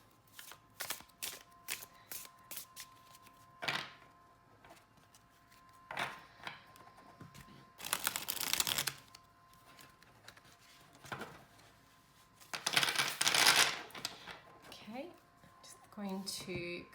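Tarot cards of standard Llewellyn stock being shuffled close by in several crisp riffling bursts with taps in between, followed by a voice speaking.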